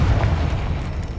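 A brief, heavy boom from a Confringo fire spell blast in Hogwarts Legacy, a single close explosion with a short rumbling tail.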